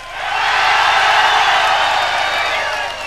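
An audience at a live radio show claps and cheers loudly, a full sustained wave of applause that swells, holds and slowly eases off toward the end.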